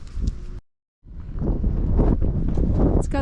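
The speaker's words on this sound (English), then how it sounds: "It's gotten very windy." Strong wind buffets a cliffside campsite, roaring and rumbling close against the microphone, cutting out briefly before returning in steady, gusty blasts.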